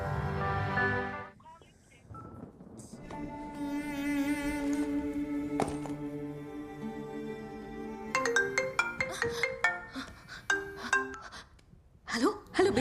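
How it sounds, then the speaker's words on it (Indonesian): A phone rings with bright electronic tones, repeating in bursts, loud and close, with a musical backdrop and no voices. "tiba-tiba teleponnya berdering namun tak ada jawaban apapun"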